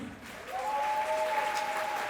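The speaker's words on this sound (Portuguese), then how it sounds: "Uma salva de palmas." Steady applause fills a suicide-prevention symposium hall in São Bernardo do Campo, soft and somewhat distant, with a thin sustained tone running through it.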